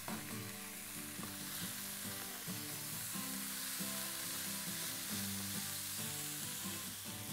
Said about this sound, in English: then we'll take the steaks to the pan and then we'll seal those off until they get really